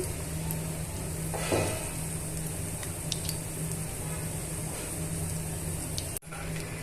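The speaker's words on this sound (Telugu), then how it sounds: "బజ్జీలని ఇలా టర్న్ చేసుకుంటూ డీప్ ఫ్రై చేసుకోవాలి" Raw banana bajji fritters deep frying in hot oil at a roadside cart, a steady close sizzle that runs the whole time, with a few light utensil clinks as the fritters are turned.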